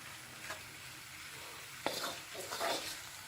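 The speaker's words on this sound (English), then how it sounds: "you're going to lightly fry and soften your onions and your garlic now for about 5 minutes" Onions and garlic soften in hot oil for a homemade chilli, giving a faint, steady sizzle with a few light clinks of stirring.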